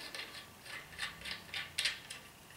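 Bolt being cranked down hard onto the riser of a Samick Sage recurve bow, a series of quick ratcheting clicks in short bursts, fairly close and moderate in level, with no talking.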